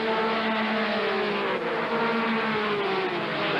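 Stock race cars racing at the 1991 Gatorade 200, a sustained high engine roar with shifting pitch as the pack circles the track, loud and steady for the whole stretch without talk.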